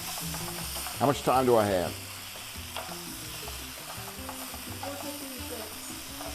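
Ramen noodles are stirred and coated while frying in a hot pan, a soft sizzle running underneath with a burst of scraping and stirring, and a person briefly speaks partway through.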